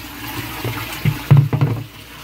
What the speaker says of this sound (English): So the water enters there at a swirl and then comes in here like so.